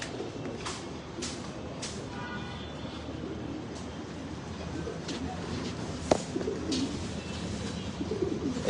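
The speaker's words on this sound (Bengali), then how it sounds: "এখানে দিয়ে দিছি কবুতর।" Pigeons coo softly and repeatedly in an indoor room under a steady background hum, with no talking.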